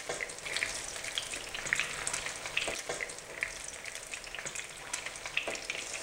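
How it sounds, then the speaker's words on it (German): Grated potato pancakes (Reibekuchen) sizzle and crackle steadily in hot oil in a pan, a close, continuous frying hiss with small pops throughout and no talk. "Jetzt lassen wir sie von der anderen Seite auch noch anbacken"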